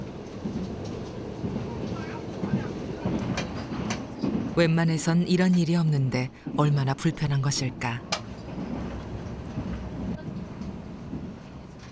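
A train runs on its rails, heard from inside a carriage on the way to a mountain village near Chupungnyeong in Korea. The low rumble continues steadily beneath a spoken voice.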